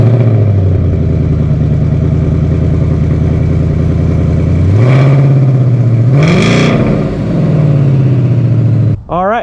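A 2022 Ford Mustang 5.0 V8 with stock exhaust idles with a deep burbling rumble, then revs up twice in quick bursts, the exhaust note rising and falling, loud and close.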